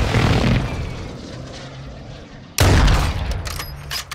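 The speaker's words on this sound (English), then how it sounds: "Airstrike." An airstrike in Call of Duty: Warzone roars in as aircraft noise, then an abrupt, loud crash of explosions and gunfire breaks out partway through and rumbles on to the end.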